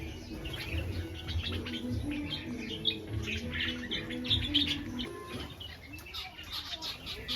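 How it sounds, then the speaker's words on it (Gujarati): Many house sparrows chirp busily and continuously nearby, with some cooing and outdoor background noise mixed in. "ચકલા ચેલા બધા આયા"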